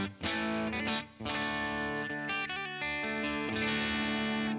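Electric guitar with single-coil pickups through a clean scene on a Fractal FM9 modeler, reverb and compressor on, plays strummed chords and ringing notes, loud and close, with brief pauses between phrases.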